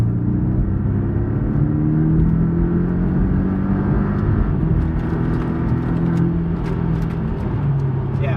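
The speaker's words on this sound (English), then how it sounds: "the obligatory blast out of the toll plaza" A Porsche 718 Cayman S pulls hard away from a toll plaza, its engine note climbing through rising revs over a steady road rumble, heard from inside the car.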